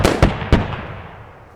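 Sharp sniper rifle shot in the military shooter Squad, with two more loud cracks in quick succession, each ringing out and fading in a long echoing tail; no talking.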